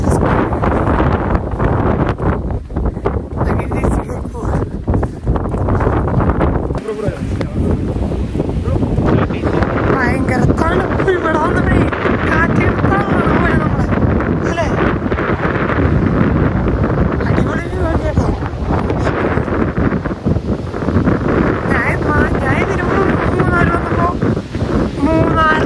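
Wind buffets steadily during an off-road jeep ride up the cold, rainy Kolukkumalai hills, a loud continuous roar lasting throughout, with people talking over it.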